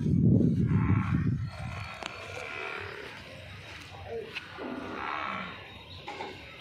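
A dairy buffalo that gives about 22 litres of milk lets out a loud, close moo in the first second or so, followed by quieter farmyard background noise with no speech.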